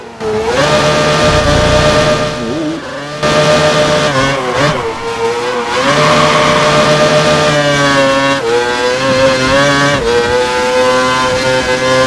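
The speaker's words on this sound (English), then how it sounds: "listen to the pathetic accelerating noise of his engine" A Formula 1 car engine in the racing game F1 2012 revs and accelerates loudly at Belgium, its pitch climbing through several gear changes with brief drops between them, no talking.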